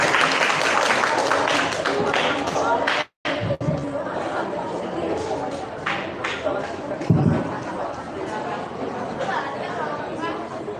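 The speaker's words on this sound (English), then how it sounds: "Here, give applause." Audience applause and crowd chatter for a participant at a school storytelling contest, a dense steady patter of clapping mixed with voices throughout, briefly cutting out near the middle before resuming.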